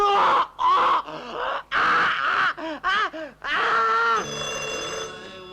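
A telephone bell rings indoors in a tense gangster scene, mixed with loud, urgent voices. The steady ringing tone stands out more clearly near the end.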